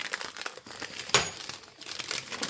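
A paper instruction leaflet and safety card crinkle and rustle close by during the unboxing of Shimano XTR M9200 carbon wheels, with a sharper crackle in the middle.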